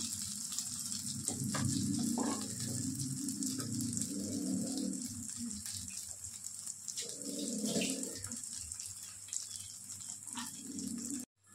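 Omelette frying in a pan, a continuous soft sizzle with brief swells of louder crackling as it is turned, fairly quiet and steady, no voices, ending abruptly.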